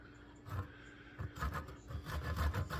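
Hand saw strokes rasp through wood in uneven bursts, close by, with a faint background hum and no talking.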